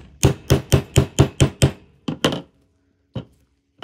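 A stamp is hammered into bars of handmade Moonlight Soap in Frederick, Maryland: seven close, even, thudding knocks in a quick rhythm, followed by a few scattered, sparser taps.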